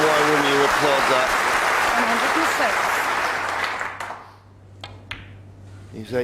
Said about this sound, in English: And why wouldn't you applaud that?